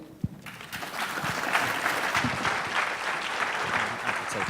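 A crowd at a Dr. Martin Luther King Jr. Day celebration applauds Mayor Newton, with steady, dense clapping that holds at an even level for several seconds.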